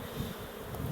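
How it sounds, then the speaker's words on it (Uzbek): Honey bees are swept off hive frames with a brush during a May honey harvest in Samarkand, a dense, steady buzz of many bees close by, with no voices. "shipirgi bilan shipiradilar arilarni"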